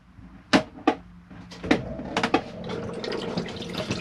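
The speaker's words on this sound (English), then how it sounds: "you get a bit of flush there" A Thetford toilet in a Bessacarr E530 motorhome gets a freshwater flush, with sharp clicks and knocks followed by a faint trickle of water running into the bowl, close by and quiet.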